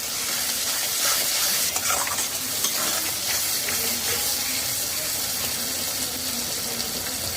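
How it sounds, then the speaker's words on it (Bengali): Chicken stirred with Kashmiri chilli over a high flame fills the air with a loud, continuous crackling sizzle, spoon scrapes breaking through now and then. "কাশ্মীরি লঙ্কা দিয়ে হাই ফ্লেমে এক মিনিট নাড়াচাড়া করে নিয়েছি"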